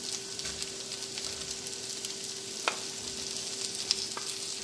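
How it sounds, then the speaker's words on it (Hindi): Okra and onions frying in oil give a steady, fairly quiet sizzling hiss with a couple of faint sharp clicks, no talk over it. "साथ ही हमारी भिंडी जो है वो फ्राई हो रही है।"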